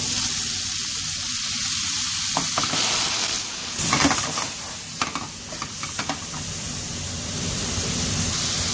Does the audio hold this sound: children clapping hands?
no